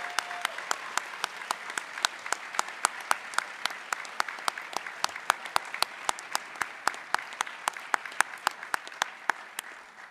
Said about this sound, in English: Lejean a great round of applause.